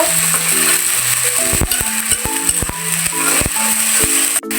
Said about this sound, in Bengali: এই রসুন বাটাটা ভালো করে একটু নেড়ে মিশিয়ে নিব।